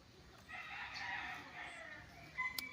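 Chickens in coops on a farm lot in Liliw, Laguna cluck and crow faintly from a short distance, a brief burst of fowl calls over quiet outdoor background.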